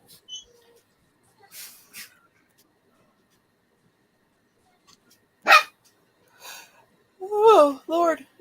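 Dogs bark in a few scattered bursts separated by long quiet gaps, the later barks louder and closer together.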